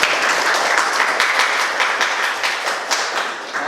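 Classroom of students applauding during an Indonesian teacher-training lesson: a steady, dense patter of many hands clapping at close range that fills the whole stretch without pause.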